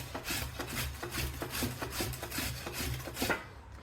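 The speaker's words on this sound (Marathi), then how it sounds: "आता आपण हे आलं साल काढलेलं आलं किसून घेत आहोत" Peeled fresh ginger is grated by hand for a fresh turmeric pickle, giving a soft, rhythmic rasping scrape repeated in quick strokes, close and fairly quiet with no talking.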